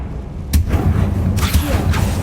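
A Confringo fire spell goes off in Hogwarts Legacy as a sharp, loud burst followed by a booming impact, with a second blast about a second later, close and alone.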